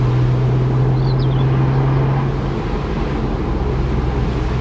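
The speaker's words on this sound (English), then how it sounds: "The exhaust note's really good." A Porsche 987 Boxster's engine and exhaust drone steadily and evenly while driving, with a low hum in the first half and constant wind and road rush throughout.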